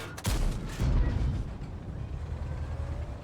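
A World of Tanks tank gun fires with a heavy boom and the shell penetrates an Object 279E's turret side, the first blast quickly followed by a second loud impact, then a rumbling tail fading under game ambience.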